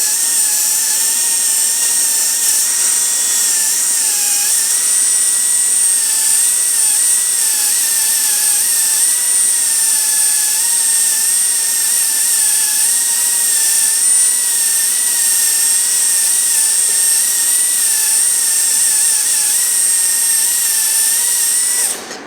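A dental drill with a straight parallel bur prepares a tooth for a metal-ceramic crown. It gives a loud, continuous high-pitched whine that holds steady for over twenty seconds, then stops abruptly.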